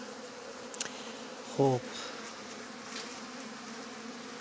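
Bees buzzing around beehives, a steady low drone close by, with a brief louder buzz as one passes near and a short spoken word.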